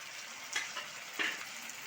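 Fried potato pieces go into a pan of cooking pumpkin, giving a brief, close hiss of frying with two quick scraping stirs.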